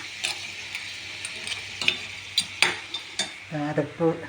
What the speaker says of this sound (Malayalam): തക്കാളി ചുവന്നുള്ളി വെളുത്തുള്ളി ഇഞ്ചിയൊക്കെ കൂടെ വറുത്തതിനകത്തോട്ട് ഞണ്ടിട്ട് കൊടുത്തിരിക്കുകയാണ്